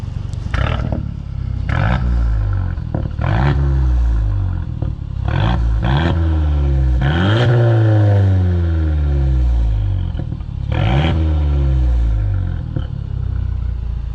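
A straight-piped Mercedes CLA250 4Matic with a loud, raspy, close exhaust note, revved repeatedly in rising and falling sweeps with crackling pops between pulls, and no voices.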